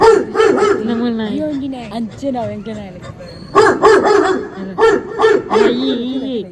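A dog barks in short bursts close by, with voices chatting and laughing over and between the barks.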